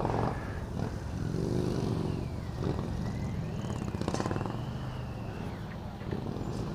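A police motorcycle runs a cone course at a municipal police motorcycle competition, its engine droning steadily with shifting revs as it weaves, heard from a distance under outdoor crowd murmur and occasional voices.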